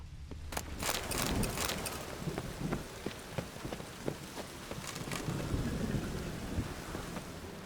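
Thunderstorm in The Witcher 3: steady heavy rain hisses throughout while repeated thunder cracks and crackling rumbles break through, loud and close, with no voices.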